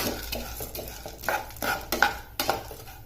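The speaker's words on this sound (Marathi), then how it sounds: "यात परत टाकते मी थोडंसं तूप आणि या बिया सुद्धा थोड्याशा फ्राय करून घ्यायच्या" Seeds for a dry fruit laddoo sizzle softly in ghee while a spoon stirs and scrapes the pan in several short, clattering strokes.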